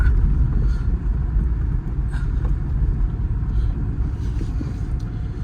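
A 2007 Porsche 911 997 Carrera 4S cabriolet with Tiptronic rolls slowly across a yard on private land, a steady low engine rumble with faint crunching from the tyres, heard from inside the car.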